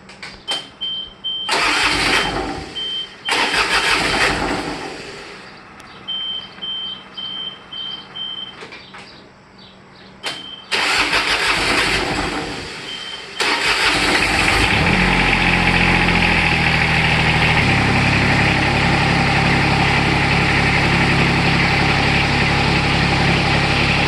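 Diesel lawnmower engine cranked in several loud, choppy bursts with gaps between them, then catching and settling into a steady, rumbling idle that runs to the end.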